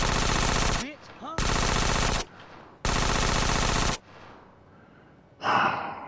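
Sustained automatic gunfire in GTA San Andreas comes in three long, loud bursts separated by short pauses, with breathing heard between them and a final louder blast at the end.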